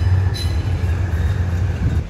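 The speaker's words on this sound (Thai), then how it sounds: "ตอนนี้ก็ถอยมาแล้วนะครับในทางที่5นะครับโดยจะนำมาพ่วงกับริ้ว722นะ" A freight train reversing on track 5 to couple with train 722 in Thailand, heard as a loud, steady low rumble with faint metallic wheel squeal above it and no talking.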